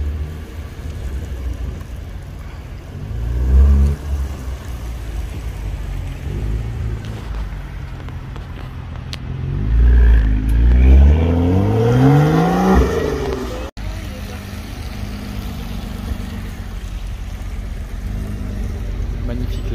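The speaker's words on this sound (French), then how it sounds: "Magnifique la GTR là." Nissan GT-R at a motor show revving and accelerating away, a loud rising engine sweep that climbs in pitch over a few seconds and then cuts off, with crowd noise and murmured talk around it.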